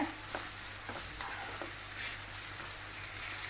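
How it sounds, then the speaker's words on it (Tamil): Ginger and green chillies sautéing in a pan for a paneer gravy, with a quiet continuous sizzle and light scrapes as the mixture is stirred. "இப்போ நல்லா கலந்து விடுங்க நல்லா வதங்கணுங்க"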